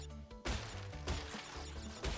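Three sharp smashing hits of boxes being broken in the video game Crash Bandicoot 2 come in quick succession at a low level, with quiet game sound between them.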